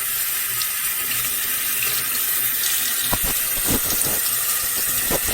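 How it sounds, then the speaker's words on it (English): Warm water pours from a bathroom tap into a sink, a continuous close splashing hiss with a few brief knocks and clatters partway through. "the water's kind of hot now. But you just want warm water."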